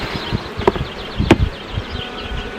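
Honeybees buzz loudly and close by as a brood frame is shaken over an open hive during a foulbrood check, with a dense steady hum broken by several sharp thumps and bursts of agitated buzzing.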